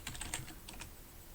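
Rapid keystrokes on a computer keyboard while entering a docker stop command, a quick burst of clicks followed by a few spaced taps, close and moderately quiet.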